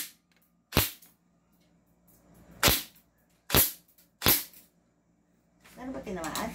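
A G&G SSG1 airsoft sniper rifle fires four sharp, loud cracks at irregular intervals on an outdoor range, with quiet pauses between shots and rustling noise at the end.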